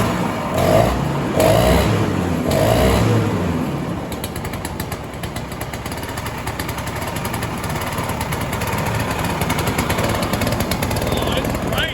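1960s Ski-Doo Alpine twin-track snowmobile engine being started, sputtering bursts that catch into a rough, buzzing two-stroke run, fairly close, with voices talking over it.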